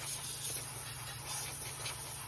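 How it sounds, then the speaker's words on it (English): A steam cleaner hisses steadily as it cleans a dirty car cup holder, a continuous close, even spray of steam with no talking. "thing about a steamer, man, is all this steam you can't really see that good, but you know it's working"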